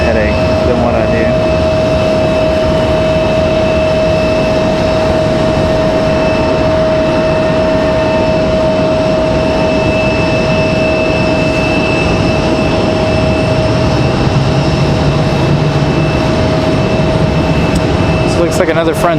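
A Frontier Airlines jet at Raleigh-Durham airport gives a steady, broad engine roar with a sustained whine, loud and continuous throughout, while people talk nearby.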